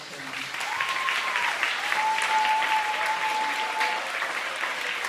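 An audience claps at an elementary school's National Blue Ribbon award ceremony, sustained even applause with a faint whistle-like tone running through the middle.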